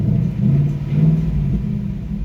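A 2018 Ford Mustang GT V8 with active exhaust in normal mode, blipped gently: a steady low rumble that swells briefly twice, fairly close and continuous, with no voices.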